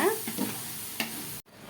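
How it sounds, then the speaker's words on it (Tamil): Red chili powder stirred and sautéing in a pan for mutton biryani, a steady sizzle with a few scraping stirs, close and moderately loud before stopping abruptly. "போட்டு அது நல்லா வணக்கி பச்சை வாசனை போகணும் அது வரைக்கும் கொஞ்சம் நல்லா வணக்குங்க"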